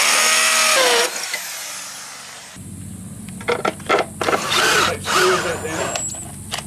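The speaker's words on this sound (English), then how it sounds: "I'm going to pre-drill this slot here for the new" A power drill pre-drills a slot for a new quick set. A loud high whine opens the clip, then short drilling bursts come and go under nearby talk.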